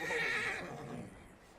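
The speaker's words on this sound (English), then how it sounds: "Let's calm the horse already." A horse whinnies loudly in Red Dead Redemption 2, a single drawn-out neigh that tails off over a second and a half, with a faint clop of hooves beneath and no talk.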